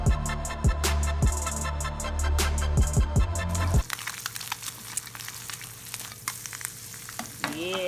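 Egg whites cooking through in a pan, seasoned with salt and pepper, sizzle and fry steadily, with a louder stretch of clattering and scraping early on before settling into a quieter hiss with occasional crackles.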